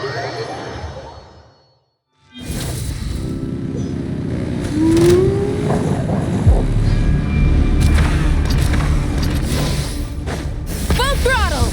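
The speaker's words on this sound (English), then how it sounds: "Rev the engines!" Car engine revving in Genshin Impact, a loud continuous engine roar that starts after a brief silence and builds, with bursts of game effects and a voice over it.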